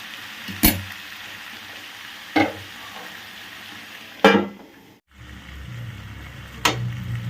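Mutton with potatoes frying and being stirred in a pan, a steady low sizzle broken by a few sharp scraping stirs, with a quieter stretch as a lid settles over the cooking meat.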